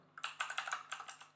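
Quick bursts of typing on a computer keyboard while entering code, a close, fairly quiet run of crisp key clicks lasting about a second.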